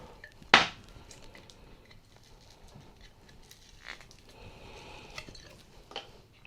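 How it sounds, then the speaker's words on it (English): A Knob Creek whiskey bottle gives a single sharp cork pop near the start, followed by faint handling clatter and small knocks in a quiet room. "Cork pop."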